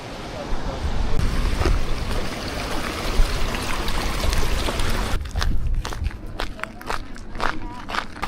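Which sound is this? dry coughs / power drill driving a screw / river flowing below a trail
river flowing below a trail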